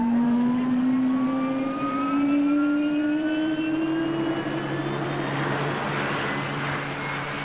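Naval jet aircraft engines start up on a carrier deck in 1975, with turbines spooling up in a rising whine. The roar builds steadily and loudly and stays close, with no talking over it.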